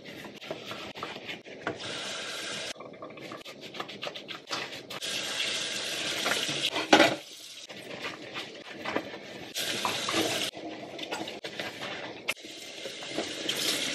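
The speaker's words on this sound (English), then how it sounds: "Another day, another sink full of dishes I need to wash." Dishes being washed in a kitchen sink under running tap water, with steady rushing water, clinks and rubbing scrapes of plates and utensils close by over about fourteen seconds, no talking.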